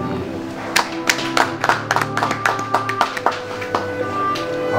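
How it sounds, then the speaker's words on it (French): An audience at an oath-taking ceremony claps in a sparse, uneven scatter of individual hand claps over a low room hum, moderately close, without building into full applause. "Et applaudir."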